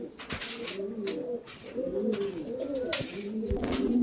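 A female pigeon of the Madrasi flying breed cooing close by, a few soft repeated coos with faint background noise and no voices.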